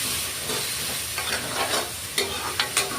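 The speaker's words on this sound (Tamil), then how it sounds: "மஞ்சள் தூள் போட்டாங்க. அதையும் நல்லா கூட வதக்கிக்கணும்." Sambar base sautéing in a pan with turmeric powder just added: a steady close sizzle broken by a few sharp scrapes of a spoon stirring, no voices.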